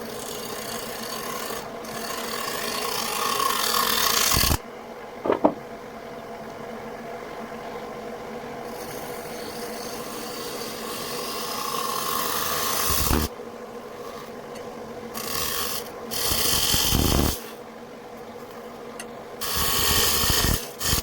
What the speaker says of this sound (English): I'm going to swipe with my 30mm gouge